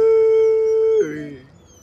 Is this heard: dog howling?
yes